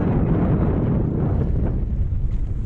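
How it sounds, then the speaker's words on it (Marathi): Strong wind at sea roars and buffets constantly over open water on a fishing trip, a dense low rumble with no pauses, with rain approaching. "आणि वारा बघू शकता"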